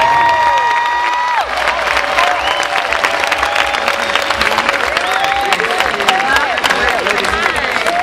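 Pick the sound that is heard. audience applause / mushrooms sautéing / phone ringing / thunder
audience applause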